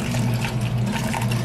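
Hot water pours steadily into a bowl to dissolve gelatin, a continuous close splashing rush with no voices over it.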